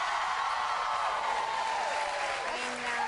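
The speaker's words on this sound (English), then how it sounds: "You give me like a nice little a cheer at the beginning." A studio talk-show audience applauding and cheering for guest Josh Groban, a steady wash of clapping with a few whoops throughout.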